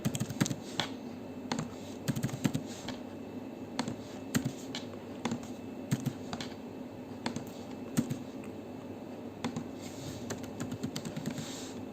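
Someone types on a computer keyboard while entering data, producing a steady run of quick, close key clicks with small pauses, heard alone without talk.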